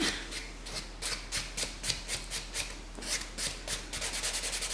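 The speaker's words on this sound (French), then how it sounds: "je vais prendre mon bloc blanc pour fignoler" Nails buffed with a white buffer block after removing semi-permanent polish, a close, steady series of rhythmic rubbing strokes, about two per second, with no talking.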